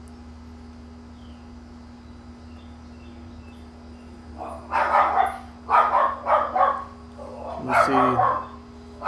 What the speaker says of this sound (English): right there is the vicious Chihuahua Black Lab.